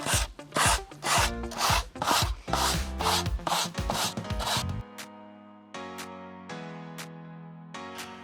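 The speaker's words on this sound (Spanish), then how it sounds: "Vamos a aprovechar que existen todavía estos soportes para las lijas que son súper buenos, hacen muy bien la pega y le vamos a pasar" A sanding block rubs along the edges of a wooden box in quick, rasping back-and-forth strokes, loud and close, then gives way to a few sparse, ringing knocks.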